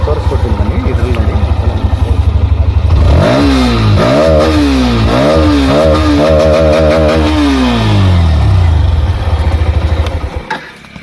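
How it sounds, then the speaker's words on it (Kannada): A Hero Xtreme 125R motorcycle idles with a steady exhaust thump, then is revved several times in quick rising and falling sweeps before settling back to idle. It is loud and close, with no talking. "ಇದರಲ್ಲಿ ಎಕ್ಸಾಸ್ಟ್ ನಾಯ್ಸ್ ಯಾವ ಥರ ಬಂದಿದೆ ಅಂತ ಸೊ ನಿಮ್ಗೆ ತೋರಿಸ್ಕೊಡ್ತೀನಿ ಬನ್ನಿ"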